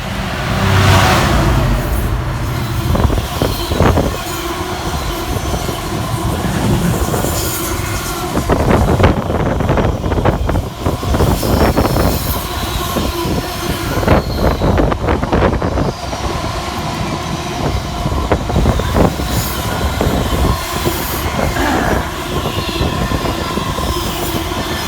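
A Class 66 diesel freight locomotive, 66588, hauls a freight train from London Gateway to Garston through Lichfield Trent Valley station at speed, a loud, continuous rumble with rhythmic wheel clatter and rail noise close by throughout.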